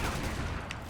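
Dante's Fireworks gun move in Devil May Cry 5, a dense rapid burst of overlapping gunshots filling under a second, loud and continuous.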